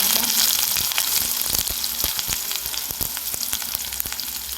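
Sliced onion frying in oil with fennel seeds in a pan, a dense, loud crackling sizzle with sharp pops and spoon taps throughout, close and continuous with no speech.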